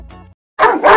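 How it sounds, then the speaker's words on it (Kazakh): Cartoon dogs barking as they chase a fox, a short burst of yaps, a silent gap, then a louder, denser run of barking close up. "Иттерінің көзіне түсіп еді, олар түлкінің соңынан қуа ұмтылады."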